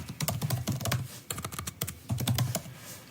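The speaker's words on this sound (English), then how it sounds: "Quick typing. You see that?" Quick typing on a computer keyboard, a dense run of rapid key clicks in bursts with short pauses, close and clear, no talking over it.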